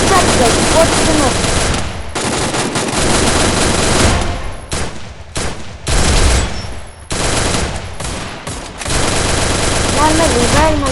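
Rapid automatic gunfire in the Free Fire video game, dense loud bursts with short gaps between volleys, mixed with game sounds and a person talking over them.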